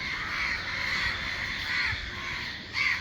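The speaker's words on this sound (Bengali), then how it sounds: "কাক পাখি ডাকতেছে" Crows cawing outdoors beside a parked 2007 Nissan Sunny, several harsh repeated caws at moderate distance over a steady bed of background street noise, with a louder call near the end.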